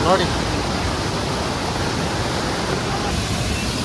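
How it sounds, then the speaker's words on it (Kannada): Waterfall with strong water flow, roaring as a steady, loud broadband rush that holds without a break from start to finish. "ನೋಡಿ ಇದು ಫಾಲ್ಸ್ ಸಕ್ಕತ್ತಾಗಿದೆ ಅಲ್ವಾ?"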